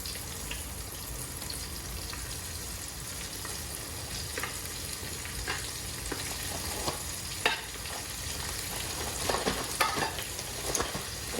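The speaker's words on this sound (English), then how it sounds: "It's frying as soon as it hits the grease." Chicken sizzles and crackles in hot oil in a cast iron skillet, a steady frying hiss with scattered pops, close and continuous.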